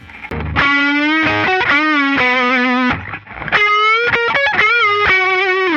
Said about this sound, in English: take the pentatonic scale, and we basically bend the first note, play the next two, and come back to the bend